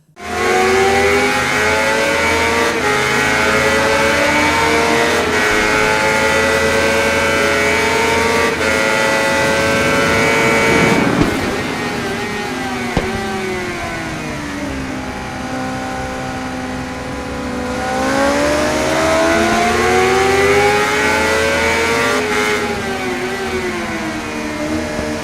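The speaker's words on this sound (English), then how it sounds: "The 2018 CBR 600RR is powered by a 599 cubic centimeter inline-4 engine producing 118 horsepower." A Honda CBR 600RR sport bike with a 599 cc inline-4 engine, in the motorcycle racing game RIDE, revs hard in a loud, high-pitched wail, the pitch climbing through gear changes, dipping briefly and rising again.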